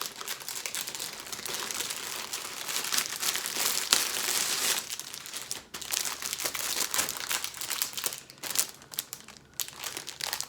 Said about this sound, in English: excuse the rustling a moment